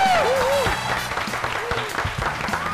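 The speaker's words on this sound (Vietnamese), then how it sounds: "Một tràng pháo tay để cùng chào đón cơ trưởng Quang Đạt." Studio audience applause on a Vietnamese television dating show, a burst of clapping under bright sliding musical tones and voices, welcoming a young airline captain onto the stage.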